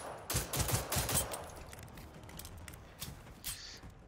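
Gunfire in Generation Zero. A rapid burst of close automatic shots comes first, then a few scattered, quieter shots follow over a few seconds.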